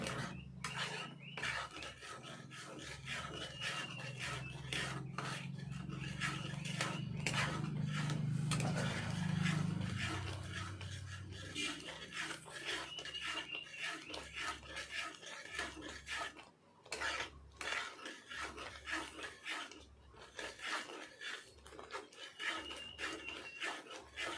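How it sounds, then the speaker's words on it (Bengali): Mango pulp with sugar being stirred and scraped in a pan for aamsatta, a steady rhythmic rubbing and scraping of a spatula against the pan, close and soft, with a low hum underneath early on. "আবারও এইভাবে নাড়াচাড়া করতে হবে"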